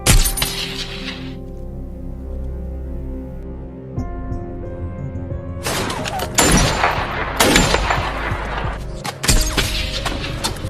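A film gunfight in Afghanistan opens with a burst of noise, then a quieter tense stretch with sustained tones before sharp, loud gunshots and cracking impacts erupt in clustered volleys.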